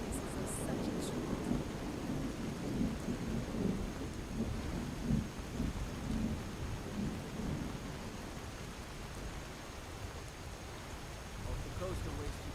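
Steady heavy rain with rolling thunder fills a stormy scene in the video game Skyrim, a continuous loud wash with low rumbles building throughout, while voices speak faintly beneath.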